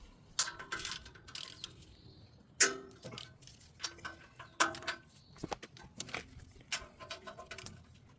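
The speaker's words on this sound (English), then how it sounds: "it's got 4 bolts. So I'm going to pop those out" Guard bolts being undone with a 16 mm tool on a CFG STE35SR Chinese mini excavator, a close series of irregular metallic clicks, ratcheting taps and scrapes with short pauses between bursts, no talking.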